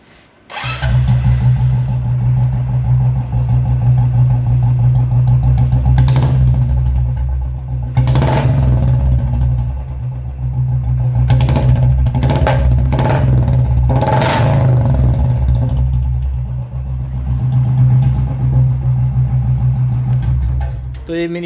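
Royal Enfield Bullet 350 motorcycle fitted with a mini Punjab exhaust pipe idles with a loud, steady low thump, punctuated by several sharp throttle blips, with a voice speaking over it at times.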